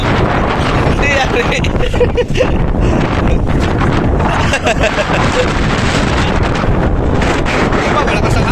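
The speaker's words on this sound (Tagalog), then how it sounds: "Diba, malakas ang hangin ah." Strong wind roars and buffets the microphone on a patola outrigger boat at sea. The loud rushing noise is steady and continuous, with indistinct voices faintly beneath it.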